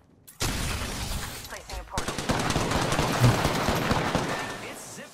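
Rapid automatic gunfire in the video game Apex Legends, with a steady stream of shots for several seconds after a quiet start, loud and close.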